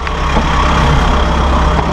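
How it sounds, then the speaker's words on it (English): A new Massey Ferguson 1760M premium compact tractor with power shuttle and standard cab idles steadily, a loud, close, low diesel rumble with even pulsing and no talk. "let you listen to this new engine"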